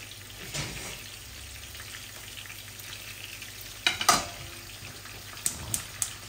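Pieces of rohu fish fry in oil in a pan with a soft, steady sizzle and crackle. A few sharp metal clinks and stirring scrapes come near the end, close by and without talk.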